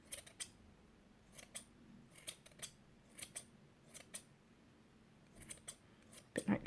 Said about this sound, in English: And you just kind of snip away.